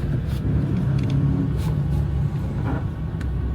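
A Ford Fiesta Mk2 on the road, its engine droning in a steady low rumble from inside the cabin, with brief bursts of road and wind noise over the hum.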